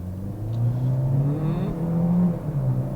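A 2025 Chevrolet Equinox gas model with a 1.5-liter turbocharged four-cylinder engine accelerating, its engine note rising and falling in a moderate, fairly smooth drone heard from inside the cabin.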